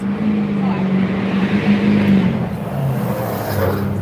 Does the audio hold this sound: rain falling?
no